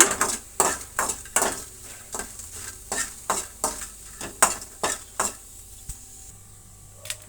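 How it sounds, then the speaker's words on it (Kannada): Tamarind fried in a dry pan, with a spatula scraping and stirring in regular strokes roughly every half second over a light sizzle. The scrapes are close and crisp, then thin out near the end. "ಸ್ವಲ್ಪ ಹುಣಸೆ ಹಣ್ಣು ಒಂದಷ್ಟೇ ಅಷ್ಟು ಹಣ್ಣು ಫ್ರೈ ಮಾಡ್ಕೊಳ್ಳೋಣ"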